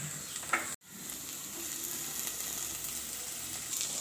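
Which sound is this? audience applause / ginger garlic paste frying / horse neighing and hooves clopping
ginger garlic paste frying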